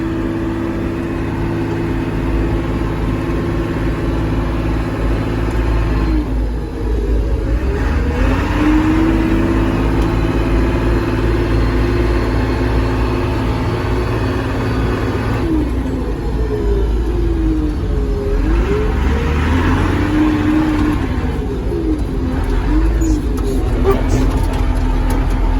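A Cat IT28G wheel loader's engine drones loudly and steadily as it pulls through the gears under constant throttle, with the pitch shifting and sweeping at each gear change.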